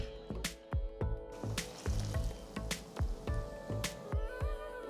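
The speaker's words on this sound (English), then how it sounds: "add 1/4 cup of roughly chopped cashewnuts. Fry them until they are golden brown in color" Chopped cashew nuts frying in ghee in a small tempering pan, with a steady crackling sizzle and scattered sharp pops and spits repeating through the whole stretch, close and fairly quiet.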